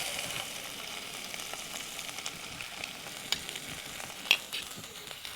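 Ivy gourd sautés in sesame oil with garlic and mustard seeds, a quiet continuous sizzle with a few sharp pops and spatters, and no one speaking.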